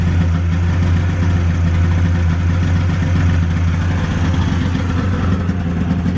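A 1995 Polaris XLT 600 snowmobile engine idling steadily at around 2,000 RPM after 20 years unused, a loud, even, low droning rumble with no pauses.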